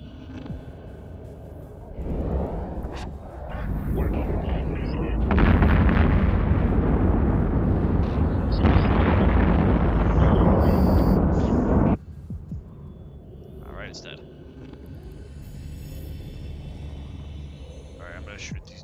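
Ship weapons and explosions in EVE Online roar as a heavy, sustained rumble of blasts that swells loudest through the middle and then drops back to a lower hum, with voices talking over it.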